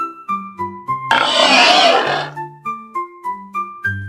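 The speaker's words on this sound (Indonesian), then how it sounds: "Babi." A pig oinks repeatedly in short, evenly spaced grunts, close and loud, with one longer, harsher rasping squeal in the middle; no talking.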